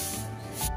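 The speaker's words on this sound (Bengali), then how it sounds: "তো এই যে জল দিয়ে ধুয়ে দিচ্ছে।" Water washing over the ground in front of a house, a soft continuous spraying and rubbing hiss, faint and close, ending abruptly.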